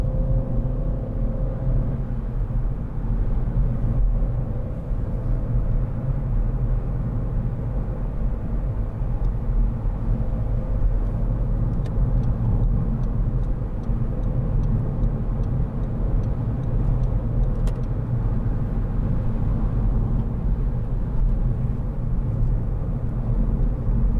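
A 2012 SEAT Ibiza 1.4 Sportrider five-door hatchback drives on the road, heard from inside as a steady low engine and road rumble that continues evenly throughout, with faint ticks and no talking.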